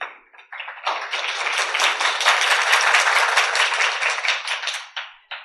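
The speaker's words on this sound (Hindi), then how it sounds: "इस सभी ने वहां पे भी बहुत जोरदार तालियां बजाई।" A spiritual gathering's audience breaks into loud, sustained clapping, a dense roar of many hands building quickly and holding for several seconds before tapering off.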